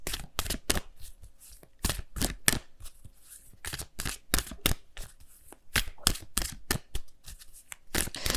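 Angel of Abundance oracle cards are shuffled by hand in quick, crisp riffling bursts with brief pauses between them. The sound is close and clear, with no talk.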